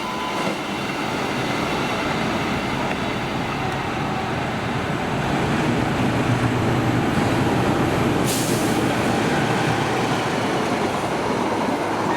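The Serayu passenger train rolls past near Kranji station, a loud, continuous rumble of wheels and carriages that grows slightly heavier midway and sustains to the end, with no voices.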